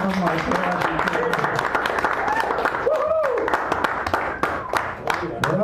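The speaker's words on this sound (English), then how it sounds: "A round of applause for our hosts who made this possible." Audience applause at a poetry evening in a San Francisco cafe, a steady crowd of claps running throughout with voices mixed in.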